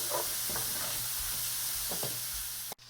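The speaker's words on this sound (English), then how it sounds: "Let's add the mushrooms in and give it a good stir." Mushrooms being stirred in a hot pan: a steady sizzle and hiss from frying throughout, with a few soft scraping stirs over it, ending in a sudden brief cut.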